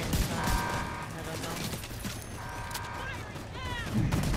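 Gunfire in Tom Clancy's The Division 2 during the Operation Iron Horse raid, bursts of rapid shots popping under players' chatter, moderately loud and fairly dense throughout.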